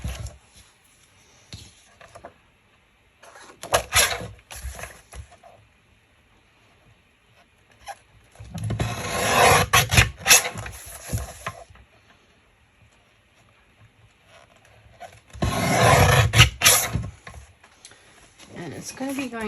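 A photo is trimmed on a craft mat, with three separate bursts of close, rasping, sliding cutting noise split by long quiet gaps.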